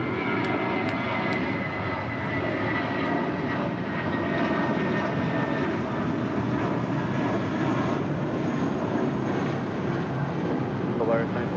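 A jet airliner roars down runway 25 right at Los Angeles International Airport on its takeoff run, a steady loud engine drone holding throughout with no break.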